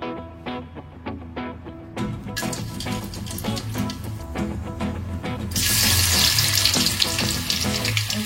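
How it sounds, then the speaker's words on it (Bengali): Potatoes fry in a pan while a mutton curry is cooked in an Indian home kitchen. A bright, steady sizzle sits under utensil clinks and clatter and swells louder toward the end. "আগে একটু আলু ভেজে নিই"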